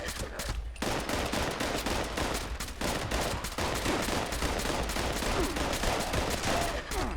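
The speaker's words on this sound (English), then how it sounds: "Let's shoot you." Sustained, heavy gunfire outdoors in Fallout 76, with rapid overlapping shots forming a dense, loud barrage that barely lets up across the clip.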